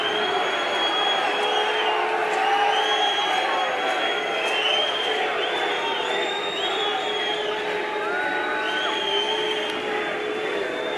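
A rugby crowd boos at an Ulster v Glasgow Warriors match, a dense, steady roar of many voices that holds at an even level for the whole stretch.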